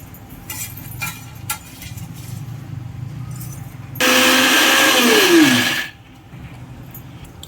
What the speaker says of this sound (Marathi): आता डिंक आपण मिक्सरमध्ये बारीक करून घ्यायचं आहे